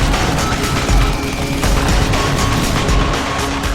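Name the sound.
weapon gunfire in video game Deus Ex: Human Revolution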